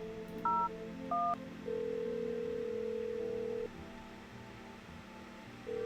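A phone in a video game dials two short touch-tone beeps, then a long steady tone holds for about two seconds before a softer tone continues, close and clear with no talking.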